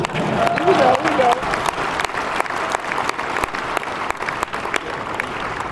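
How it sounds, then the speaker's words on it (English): An audience claps steadily throughout, a full round of applause from a sizeable crowd with dense overlapping claps and a faint voice briefly underneath near the start. "You were supposed to clap right here."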